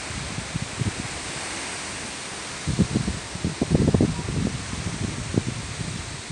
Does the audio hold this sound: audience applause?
no